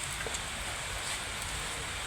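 Steady rain falls in a wide, even hiss with no breaks, carrying on without any voices over it.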